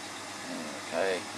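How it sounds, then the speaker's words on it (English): A Toyota Tarago van with a 2TZ-FE engine idles as it warms up, a steady low hum in the background with a slight swell near the end. "You can hear my van running in the background there"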